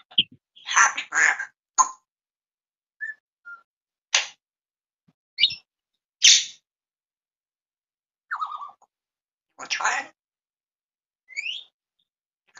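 A pet parrot makes scattered short squawks, chirps and whistles, each call isolated and separated by stretches of silence, fairly close and clear.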